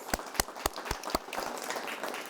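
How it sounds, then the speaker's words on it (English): A small podcast panel audience claps, a handful of distinct sharp claps in an even rhythm at first, then blurring into a faint thin patter of scattered hands. "let's give a round of applause to all of our wonderful panelists"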